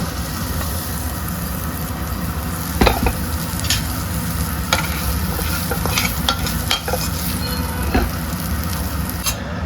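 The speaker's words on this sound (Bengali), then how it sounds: "এবার আমাদের এটা হয়ে গেছে ভাজা ভাজা করে এটাকে নামিয়ে নেব" Fig and shrimp curry stir-frying in a pan, with a steady close sizzle and scattered scraping stirs throughout, including one louder knock near the start, and no talking.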